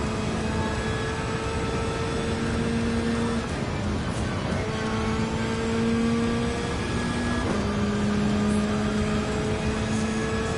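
Race car engines in Gran Turismo 7, a Toyota Supra and a Corvette running side by side, droning at a high, steady pitch that climbs and drops with gear changes, loud and continuous.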